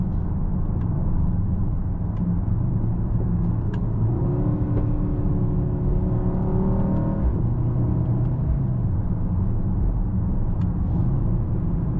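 A 2024 Mercedes-AMG GLE 63 S facelift driving on country roads, heard as a steady low engine and road rumble inside the cabin, with a rising whine midway as it accelerates.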